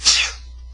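One quick, sharp sneeze close to the mic, a brief hissing burst that fades fast into quiet.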